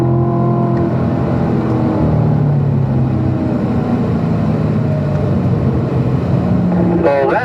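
A race car on a track running wide under too much throttle, its engine drone droning and rising in pitch as it accelerates, heard steadily from on board beneath someone talking.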